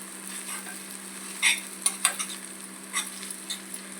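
Chilli powder stirred into a capsicum and coconut curry in a pan, soft sizzling with intermittent spoon scrapes and clinks against the pan, close by and without speech.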